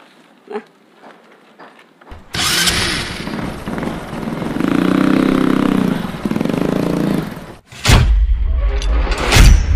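Heavy motorcycle engine starting and running close by, a loud rough roar that holds for several seconds, dips briefly, then surges again.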